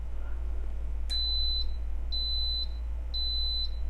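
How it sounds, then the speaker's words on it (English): An Instant Pot timer beeps three times at a steady pace, each tone high, clear and fairly loud, over a constant low appliance hum in a kitchen. "that will make sort of an alarm beep"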